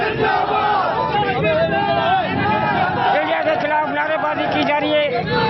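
A crowd at an effigy burning in Sindh, Pakistan chants slogans against India, loud and close, with many voices shouting together continuously and a nearby speaker talking over the chanting.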